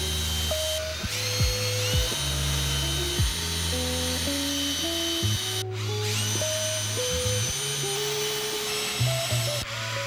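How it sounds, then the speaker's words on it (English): A power drill bores screw holes into wooden legs of a DIY vinyl record storage stand, its motor whining in repeated bursts that rise and drop in pitch as the bit starts and stops, loud and close, with no talking. "So now I'm just drilling my screw holes."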